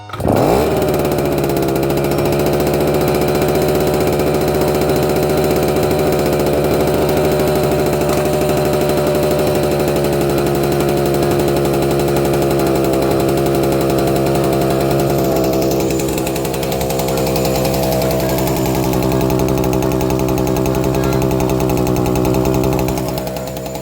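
An Opel Kadett engine with a repaired exhaust idles loudly and steadily after a quick start, a continuous rough mechanical drone with a constant rumble that holds for the whole stretch.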